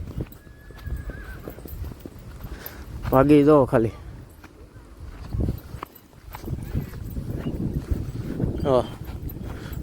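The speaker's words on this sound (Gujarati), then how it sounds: "તો ચાલો મિત્રો આપણે ઘોડીઓ છૂટી કરી દીધી છે." Mares let loose at a farm, with loud whinnies near the start and again at the end, hooves clip-clopping on the ground, and someone speaking briefly amid wind and outdoor noise.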